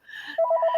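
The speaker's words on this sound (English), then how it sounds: "Ignore the phone." A telephone rings close by, a short electronic warbling tone that pulses in quick repeated beats after a brief softer lead-in, with no voices.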